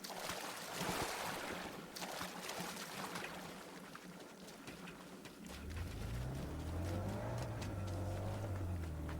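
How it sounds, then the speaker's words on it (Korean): A car engine rumbles close by, its low drone rising and shifting in pitch over steady broadband road and wind noise. "차 소리 너무 너무 잘 난다 차 소리."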